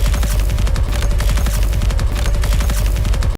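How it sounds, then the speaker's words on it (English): Rapid automatic gunfire in Battlefield 2042, a loud, sustained burst of closely spaced shots with a punchy low thump, firing continuously before cutting off abruptly at the end. "You have to hear this gun effect right here."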